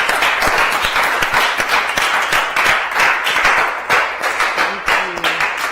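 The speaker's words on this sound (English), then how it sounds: "So with a round of applause, let's welcome our trainer for today." An audience at a Keyboard Idol music event applauds to welcome a trainer, with sustained, lively clapping that fills the room at an even level and no voices on top.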